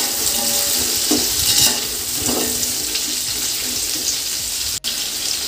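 Sliced onions fry in hot oil in a pan for chicken dum biryani, a loud continuous sizzling hiss with a few stirring scrapes, close and steady.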